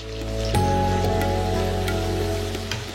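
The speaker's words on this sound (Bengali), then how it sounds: "ভালো করে নেড়ে মিশিয়ে পেঁয়াজ ভাজতে থাকুন ততক্ষণ যতক্ষণ না রং ধরে" Sliced onions dropped into hot oil and ghee with caramelising sugar in a pan for chicken korma, a loud, steady frying hiss with a low hum beneath.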